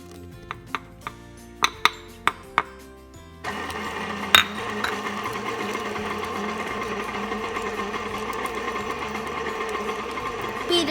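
An electric mixer runs on medium, blending banana cranberry muffin batter in a bowl; a few sharp knocks come first, then a steady mechanical whir carries on loudly to the end.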